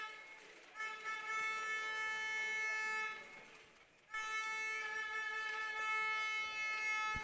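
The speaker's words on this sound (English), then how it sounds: "Foghorns blaring behind us." Loud, sustained foghorn blasts with a harmonic drone at a Scotland v Ireland rugby match, two long blares separated by a brief dip, over a roaring crowd.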